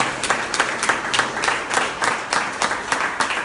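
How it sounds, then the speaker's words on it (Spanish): A church congregation claps steadily in unison, a dense, even wash of applause with a rhythmic beat, close and moderately loud, with no talk over it. "Dale ese fuerte aplauso al Señor"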